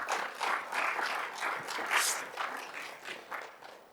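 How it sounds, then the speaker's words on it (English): Conference attendees applaud a panel of speakers at a session on neglected tropical diseases in Africa, soft uneven clapping in loose waves that fades slightly toward the end. "A round of applause for them, please"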